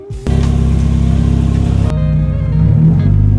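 A Mazda Miata with racing seats revs up after a brief pause and pulls away. The engine note is loud and close, then settles briefly before building again.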